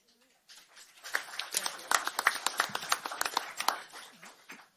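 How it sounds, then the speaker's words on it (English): Audience applause at a local candidate forum, a crowd clapping steadily from nearby for a few seconds after a quiet start. "We are going to ask folks to refrain from applause, although we appreciate it very much"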